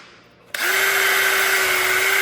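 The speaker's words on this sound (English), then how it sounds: "I can get my pilot holes drilled" A power drill spins up sharply after a short quiet lead-in, then runs at a steady high whine while boring pilot holes for mounting a deer antler shed skull.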